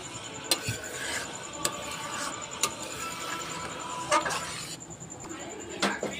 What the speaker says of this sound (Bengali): এবার একটু নেড়ে চেড়ে নামিয়ে নেব।